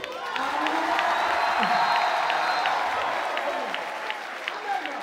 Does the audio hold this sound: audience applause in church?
yes